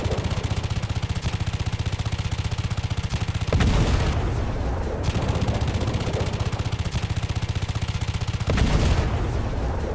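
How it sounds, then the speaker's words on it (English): Dense, continuous gunfire from aircraft guns in a flight combat video game, with two heavy explosion bursts breaking through the rapid, loud, steady firing. "Nice explosions, actually."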